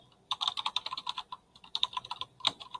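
Keys tapping on a computer keyboard while a comment is typed into a Trello card, a quick irregular run of light clicks in two bursts with a brief pause between, close and fairly soft.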